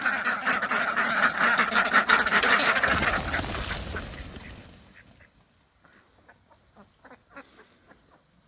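A flock of ducks quacks loudly and busily, then the noise drops off abruptly, leaving only a few faint, scattered quacks.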